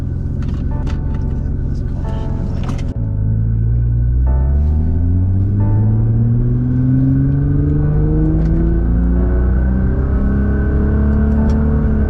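A stage 2 Nissan GT-R pulls away on the road, its engine climbing in pitch through a long, loud rising rev as the car accelerates, with a brief lower note before the pull.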